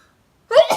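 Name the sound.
sneeze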